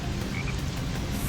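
A frog croaks in the jungle stage of Sonic Heroes, its steady croaking running loud and continuous against a dense game background.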